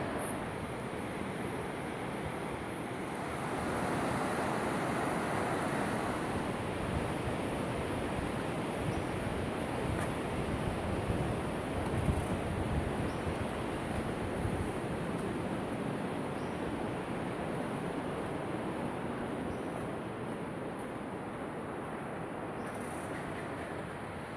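A river rushes below a waterfall near Mocoa, Colombia, a constant broad roar of flowing water, moderately loud and unbroken.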